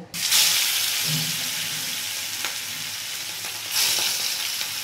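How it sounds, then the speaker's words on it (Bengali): Marinated fish dropped into hot oil, a loud close sizzle that surges at the start, holds as a steady hiss, and swells again briefly later. "এবার আমি মাছগুলো ভেজে নেব।"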